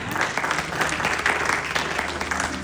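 A church audience clapping together, dense and sustained applause that stays loud and even from start to finish.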